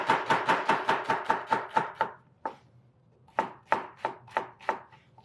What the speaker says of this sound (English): I am going to do a little bit of a mince on some shallot.